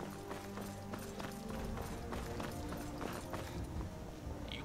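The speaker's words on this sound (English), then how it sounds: "Why is there a horse here?" A horse in Skyrim moves nearby, its hooves giving a steady run of clopping steps over game background sound, moderately close and fairly even in rhythm.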